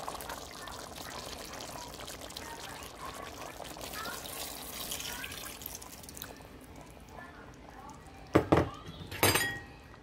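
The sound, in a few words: water poured into a Dutch pot of curry goat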